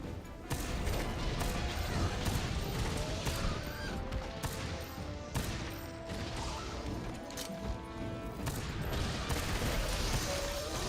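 Repeated bowgun fire in Monster Hunter: World, a dense, continuous stream of mechanical shots and clanking over busy game sound throughout, with no clear talk.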